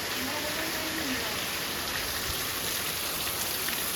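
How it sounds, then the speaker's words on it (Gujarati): Heavy rain falling and water running in a village, a dense, steady hiss of rain throughout, with no clear talk. "કેટલો વરસાદ આવી ગયો આમ પાણી દોડતા થઈ ગયા"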